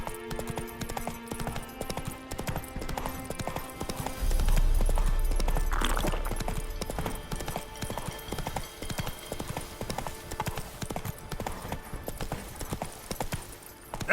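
Roach the horse galloping in The Witcher, with quick, rhythmic hoofbeats running throughout and a heavy low thud midway, plus a faint voice.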